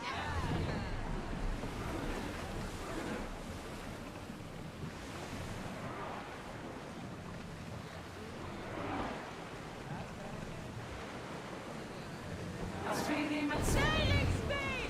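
A sailing ship cuts through ocean waves in Assassin's Creed Odyssey, with a continuous rush of surf and wind and a few sharper game effects near the end; a voice speaks faintly at times.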